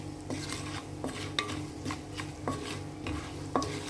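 Curry leaves and chili powder fry in a pan for a broad bean fry, a soft sizzle beneath repeated sharp clinks and scrapes of a spoon stirring against the metal pan.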